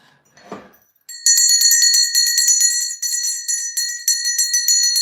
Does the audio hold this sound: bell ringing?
yes